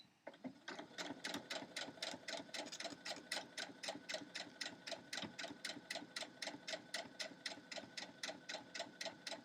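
A sewing machine runs a quick basting line close to the fabric edge, a steady fast mechanical clatter of stitches going on without a break.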